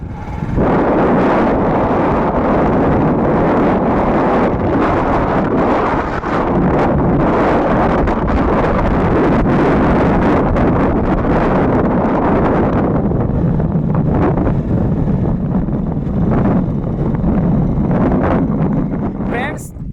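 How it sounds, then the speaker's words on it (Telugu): Strong wind buffets and roars across the microphone outdoors by a pond at night, a steady rumbling gust throughout with a voice faintly mixed in. "గాలి అయితే ప్రశాంతంగా వస్తుంది చల్లటి గాలి"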